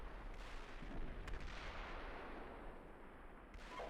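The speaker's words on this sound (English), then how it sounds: "6 Alpha 1, positioned under artillery fire." Continuous rumbling artillery fire in the tank simulation game Steel Beasts Pro PE, a dense roar of distant blasts with a few sharper impacts, steady and loud throughout with no voices.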